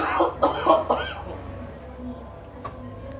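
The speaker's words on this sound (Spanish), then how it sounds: "Vamos a toser fuertemente" Several forceful, deep coughs in quick succession from a person producing a sputum sample during a tuberculosis check, close and loud, then fading into quieter breathing and a faint background.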